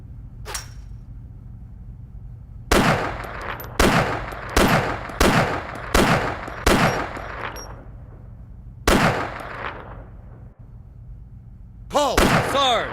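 Shotgun blasts at clay skeets on a range in the military game ARMA 2: about nine loud, sharp, evenly spaced shots ring out alone, each with a brief echo, after an opening call.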